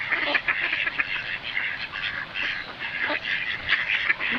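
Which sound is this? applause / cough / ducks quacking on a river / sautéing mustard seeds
ducks quacking on a river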